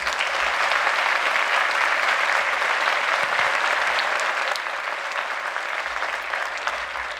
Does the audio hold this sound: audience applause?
yes